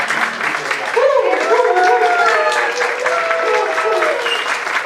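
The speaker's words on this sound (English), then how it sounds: "Let's give a round of clap as she comes." An audience in a community hospital gathering in Western Kenya applauds steadily as a speaker walks to the stage, with dense clapping sustained throughout and a voice speaking over it.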